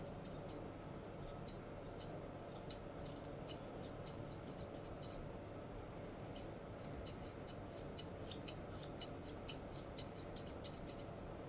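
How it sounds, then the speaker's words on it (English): Quick, crisp snips of scissors trimming the fur on a dog's foot close by, coming in rapid bursts with short pauses, over a quiet background. "we can bring our scissors straight up and then scissor straight across"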